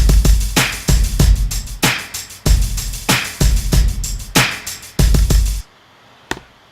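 Punchy drum loop sample with heavy kicks and crisp snare and hat hits in a steady groove, loud and dry, cutting off abruptly near the end with one faint tick after.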